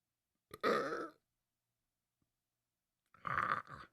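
Two close, loud burps, each about half a second long, separated by a few seconds of silence, with no talking.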